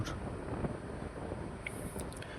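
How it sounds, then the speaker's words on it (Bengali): Strong wind blows across a phone microphone in an open spot, a continuous low rushing and buffeting roar at moderate level, with no voices. "আর এত হাওয়া দিচ্ছে এই জায়গাটায়, আমি ফোনটা ধরে রাখতে পারছিলাম না, এত পরিমাণে হাওয়া দিচ্ছে"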